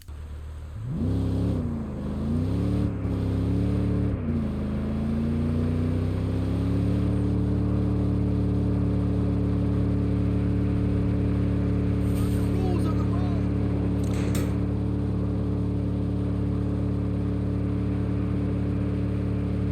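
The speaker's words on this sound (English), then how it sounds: "just hearing the car stuck at 4th gear forever does get on my tits a bit" A car engine in Saints Row climbs through a few quick gear shifts, then hangs stuck in fourth gear, droning at one steady high pitch that never changes, loud and continuous with a voice talking faintly over it.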